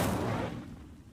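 Incendio fire spell cast in Hogwarts Legacy: a single loud whooshing burst of flame with a sharp onset, fading away over about a second, with no voices.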